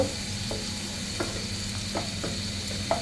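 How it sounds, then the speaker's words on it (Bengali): Onion lightly frying in a pan while a fish curry is being cooked, giving a steady low sizzle with a few soft scraping stirs spaced through it, close and alone without talk. "পেঁয়াজটা দিচ্ছি একটু হালকা করে ভেজে"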